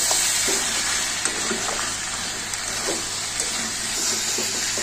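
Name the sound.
mutton frying and stirred with spices for mutton kosha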